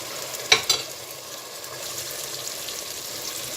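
Potatoes and English spinach fry in oil with a soft, steady sizzle, opening with two sharp stirring clinks before settling into a quiet, continuous crackle with no talking.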